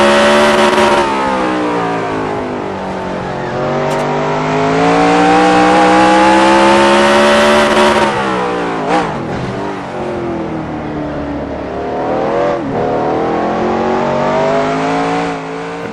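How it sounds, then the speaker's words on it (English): Race car engines in NASCAR Racing 2003 at Sonoma Raceway, a loud, steady roar of a close car that rises and falls through gear shifts, with other cars passing nearby. "He's got about 5 car length lead over Matt McLean in second place."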